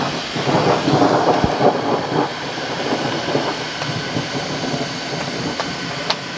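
Deep rolling thunder at a tent campsite during a heavy rainstorm, a long rumble that swells and fades over steady noisy rain, with no voices.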